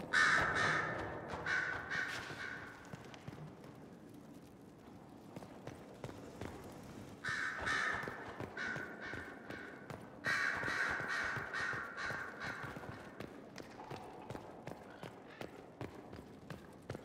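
Crows caw repeatedly in loud, ragged bursts in a Dragon Age: Inquisition stronghold, with pauses between clusters and faint footsteps and ambient rumble underneath.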